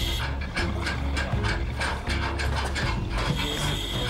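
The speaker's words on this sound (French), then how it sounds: "il faut que vous abaissiez la guillotine en dévissant les boulons" Bolts are unscrewed beneath a guillotine gate at the Fort Boyard fortress to lower it, producing a continuous run of close ratcheting clicks and grinding metal turns with no speech.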